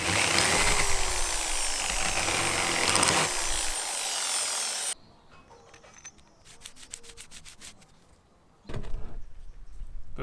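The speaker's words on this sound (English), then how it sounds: "So we're gonna give it a little chamfer with a bigger drill." Drilling chamfers into wood with a bigger drill bit, close and loud, a grinding rub for about five seconds, then quiet handling and light rattles before a second burst of drilling at the end. A voice speaks briefly.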